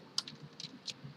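Quiet computer keyboard typing during Python coding, a few separate key clicks spread over about a second, including a press of the enter key, with no talking.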